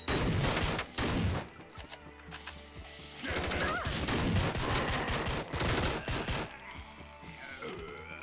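Rapid bursts of gunfire from the tactical shooter game Door Kickers: Action Squad, loud, close and dense, with automatic fire broken by brief pauses and some clattering mechanical sounds.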